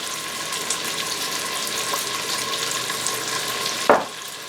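A third of an onion, finely diced, sizzles steadily in an Instant Pot while honey garlic chicken is made. The frying hiss runs evenly throughout, with one sharp clunk near the end and no talking.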